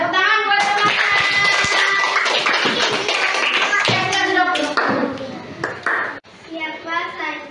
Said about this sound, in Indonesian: sudah tepuk tangan buat teman-teman